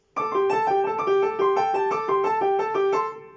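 Flutes and clarinets play together, rocking back and forth between two notes in a steady repeating rhythm, clear and close for a few seconds before fading out.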